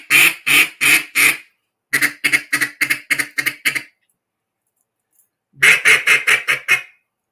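A handmade wooden duck call with cut reeds and shaved tone boards imitates a duck, giving loud, close quacking runs: a slow series of four, then a fast string of about ten, a pause, and another quick burst.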